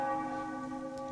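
Church bells ring out in a short, sustained burst, their layered metallic tones humming steadily and fairly faintly with no voices present.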